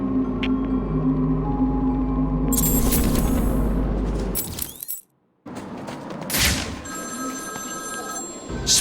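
A telephone bell rings loudly in the Batman: Arkham City video game, a continuous metallic trill over a low game drone, then breaking off briefly before the ringing resumes with a bright clatter.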